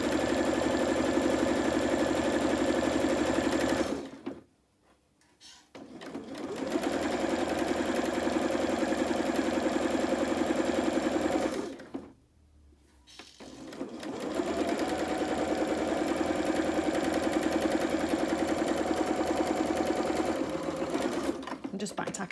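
A sewing machine stitching a fabric advent calendar whirs in long steady runs, stopping twice briefly before starting again, close and loud.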